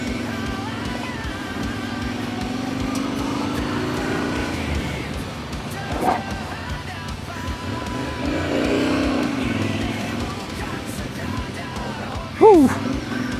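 A 2026 Yamaha Tenere 700 motorcycle rides along a paved road, its engine droning steadily with a brief louder rev near the end, while a rider talks over it.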